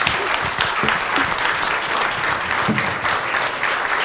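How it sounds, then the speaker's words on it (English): Audience applause for Dr. Susan Rogers at an afternoon conversation event: dense, steady clapping from a sizable crowd, filling the whole stretch at an even level with no voices over it. "Can we have a round of applause for the great Dr. Susan Rogers?"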